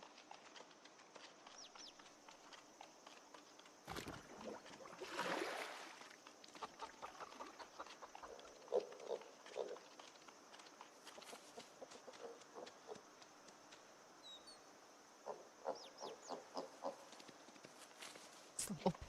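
Piglets move around in the Project Zomboid video game, heard as faint, scattered clucking, grunting and shuffling sounds in quiet ambience, with a louder burst midway and soft rustling throughout.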